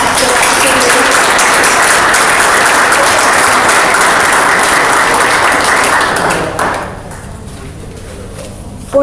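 Loud, dense applause from a crowd at an NYPD recognition event fills the room for several seconds, then drops away to quiet murmuring, with a sharp clap or knock at the very end.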